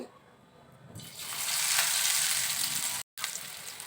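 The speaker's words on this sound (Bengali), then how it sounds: "এই যে তেলে পাকোড়া দিচ্ছি সেই শব্দ শুনে" Cabbage pakoras hit hot oil, a quiet start swelling into a strong, close hissing sizzle that holds steady, broken by a brief cut near the end.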